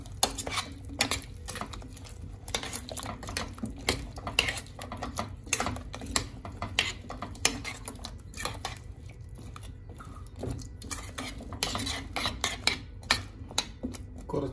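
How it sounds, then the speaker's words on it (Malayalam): A spoon stirs yogurt curry for Guruvayoor rasakalan in a metal pot, with close, repeated scraping clinks and knocks in an uneven rhythm that goes on steadily throughout. "നന്നായിട്ടൊന്ന് ഇളക്കി കൊടുക്കുക"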